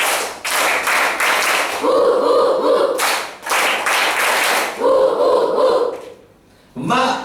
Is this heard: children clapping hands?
yes